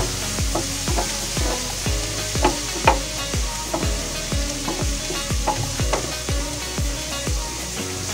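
Tofu sisig frying and being mixed in a pan, with a steady sizzle under repeated scraping, clacking stirs from a utensil at a quick, uneven rhythm, close and fairly loud.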